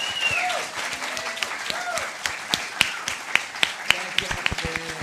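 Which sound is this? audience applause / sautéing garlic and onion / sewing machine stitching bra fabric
audience applause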